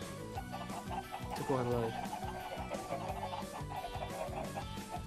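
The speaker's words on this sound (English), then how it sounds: "Die, chickens, you little fucks." Chickens clucking in Minecraft with the Better Than Wolves mod, repeated short clucks in a choppy rhythm, with one louder squawk midway, while people talk over them.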